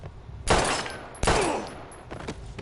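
Gunshots in the Life is Strange video game: two sharp, loud blasts about a second apart, each ringing out with a decaying tail, followed by a softer burst of smaller cracks, with no talking.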